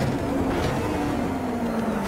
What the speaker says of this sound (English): These little buzz boxes, they are very loud in real life